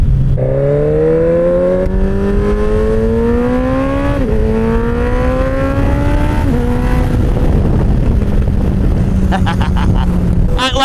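A motorcycle engine drones loud and close while riding, its pitch climbing steadily through each gear before dropping at two clear shifts, then settling into an even cruising hum against rushing wind.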